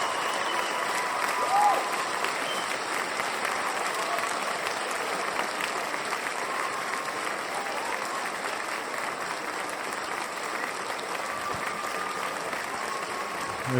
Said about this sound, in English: another round of applause for David Hatcher Childress.